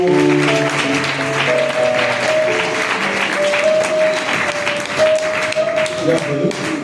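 A crowd at a testimony gathering applauds and cheers steadily, with sustained musical tones and some voices running underneath the clapping.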